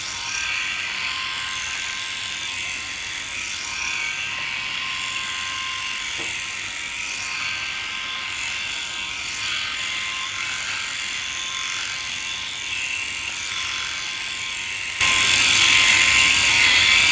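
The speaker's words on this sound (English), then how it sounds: "I'm going to push the shaver that way." A rotary electric shaver cuts facial hair with a steady, close, high-pitched buzzing whir that runs unbroken throughout and grows slightly louder and brighter near the end.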